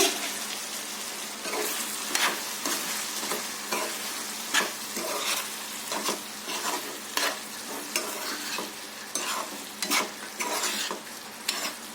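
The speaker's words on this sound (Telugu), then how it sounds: "వేసుకొని ఒకసారి కలుపుకుందాము" Yellow chicken with chopped coriander is stirred in a frying pan, a steady sizzle broken by repeated scraping strokes of the spoon throughout, close and moderately loud.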